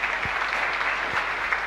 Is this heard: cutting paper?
no